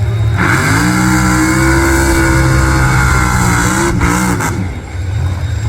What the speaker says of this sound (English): jet car versus this car.